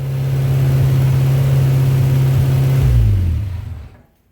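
A 1958 MGA under restoration, after a popped freeze plug, idles with a steady, loud, low hum, then stalls and falls silent near the end.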